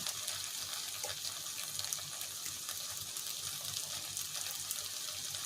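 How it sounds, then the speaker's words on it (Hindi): Tap water runs steadily for soapy washing at a sink, a constant close gushing splash that holds even from start to finish with no voices. "साबुन से धो लेते हैं"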